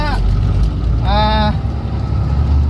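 Diesel truck engine rumbling at close range as the vehicle gets ready to pull away, a heavy steady low drone with a brief voice over it partway through.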